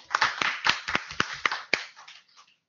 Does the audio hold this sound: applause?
yes